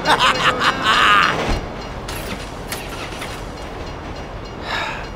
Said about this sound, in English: You forgot to check the train schedule!